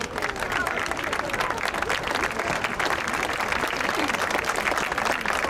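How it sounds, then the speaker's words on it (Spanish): An audience claps steadily and densely at an anti-bullfighting event at Las Ventas, a continuous moderately loud applause with faint crowd murmur underneath. "Un fuerte aplauso para Marta."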